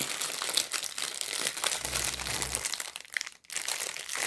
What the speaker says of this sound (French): je vais vous déballer les perles, les diamants.